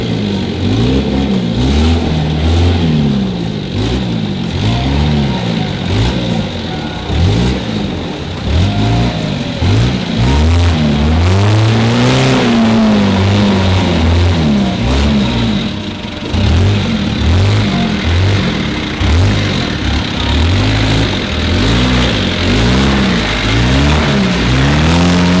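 A car engine revs and surges repeatedly, loud and close, as the car is towed out of a hole it slid into after losing grip on the road, the pitch rising and falling in steady waves with no talk.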